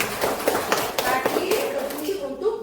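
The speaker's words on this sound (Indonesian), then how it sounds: "Tepuk tangan untuk Salima." Schoolchildren in a classroom clap for a classmate, giving a run of quick, uneven hand claps close by, mixed with voices talking over them.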